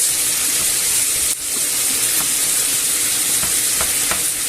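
Chorizo and rice sizzle steadily in a frying pan while being stirred, with a constant bright hiss and occasional soft scrapes and clicks of the spoon moving through the food.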